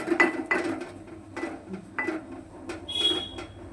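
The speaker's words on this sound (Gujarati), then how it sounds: "આપણે ચણાનો લોટ એમાં એડ કરતું જવાનું છે. ધીમે ધીમે હલાવતું જવાનું છે." Gram flour is stirred into a cooking pan, making scattered metallic scrapes and clinks of a spoon against the pan, soft and uneven, with a brighter ring near the end.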